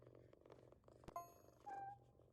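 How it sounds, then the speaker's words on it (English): A cat purring softly in a video game scene, a low faint rhythmic rumble with a couple of brief chime-like tones over it. "Let's look at a cat purring over here."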